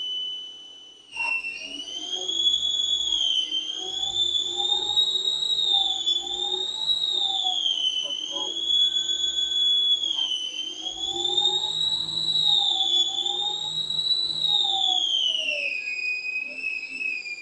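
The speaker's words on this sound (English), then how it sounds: "it's turning the material at a fast speed, and it's putting a cutting edge against the aluminum" A metal lathe turns aluminum at high speed while a cutting edge works the stock in a workshop. A loud, steady high-pitched machining whine wavers slightly in pitch and runs continuously for the whole stretch, with low rumble underneath.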